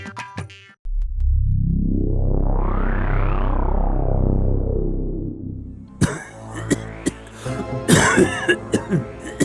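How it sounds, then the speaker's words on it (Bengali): In a Gopal Bhar cartoon, a long, drawn-out exaggerated cough swells and slides in pitch for several seconds, followed by a burst of shorter, sharper coughs and throat clearing, loud and close. "কাশিটা একটু বেশি হয়ে গেছে"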